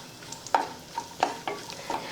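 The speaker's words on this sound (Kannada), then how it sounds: "ನಾನು ತುಪ್ಪದ ಫ್ರೈ ಮಾಡಿ ಹಾಕೊಳ್ಳೋದ್ರಿಂದ ಚಲೋ ಟೇಸ್ಟ್ ಕೊಡ್ತಾವಂತ ಫ್ರೈ ಮಾಡ್ಕೊಳಕತ್ತೀನಿ ರೀ" Cashews and almonds frying in ghee while being stirred, a soft sizzle under a few distinct scraping strokes of a spoon against the pan, close and brief.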